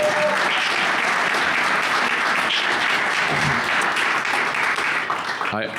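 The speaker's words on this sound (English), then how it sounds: "could you give them a round of applause for showing up?" Audience applause at a lecture event, dense continuous clapping from a large crowd, loud and steady throughout with faint voices beneath.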